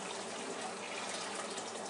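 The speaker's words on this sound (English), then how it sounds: "let me pour the water off of this and off of our noodles" Hot water poured off cooked spaghetti noodles in a home kitchen, a steady, dense gushing splash with no pauses, heard close and alone at moderate volume.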